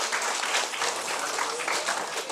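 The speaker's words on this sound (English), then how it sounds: "Please give a big round of applause for both of them." Brief burst of applause from an audience at a student induction program, a dense patter of many hands clapping together at moderate distance for about two seconds.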